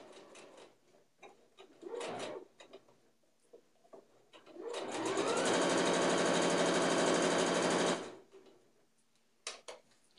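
A home sewing machine runs in a steady, loud burst of rapid stitching for about three seconds, sewing quilt pieces for a disappearing nine patch quilt over pins, with quieter handling noises before and after.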